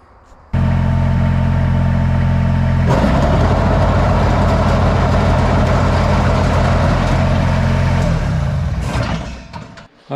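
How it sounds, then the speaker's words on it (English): Kubota BX compact tractor with an Easy Over mower deck running, the engine and spinning blades producing a steady loud drone that jumps in pitch partway through, then fades near the end. "I have the mower connected to the tractor. It is spinning."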